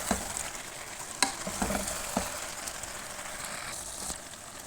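Chicken pulao ingredients are stirred together in a pot over heat, a continuous sizzle with scattered scraping knocks of the spoon against the pot, fairly quiet.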